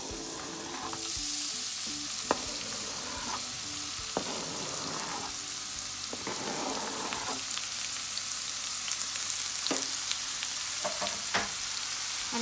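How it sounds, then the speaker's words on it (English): Seasoning ingredients sizzle in about two teaspoons of oil in a pan, a continuous close frying crackle with occasional sharp clinks and scrapes from stirring, heard alone without speech. "So now I have 2 teaspoons of oil in the pan. I'm gonna add all my ingredients."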